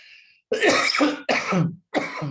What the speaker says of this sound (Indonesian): Maaf, masih batuk saya.